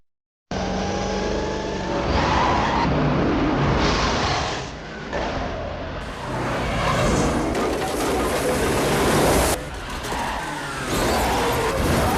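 A mining company truck trying to force a car off the road, a loud close engine roar with revving and surging that swells and dips over about twelve seconds.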